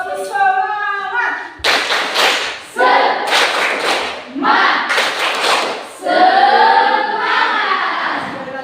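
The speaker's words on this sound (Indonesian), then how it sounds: "Tepuk semangat." A group claps a rhythmic spirit-clap pattern together in a classroom, loud broadband bursts of clapping alternating with voices chanting along in unison.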